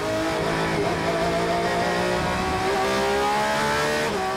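Porsche, BMW and other race cars roar through a wet race, engines revving loudly and continuously with overlapping passes and spray hiss, no voices.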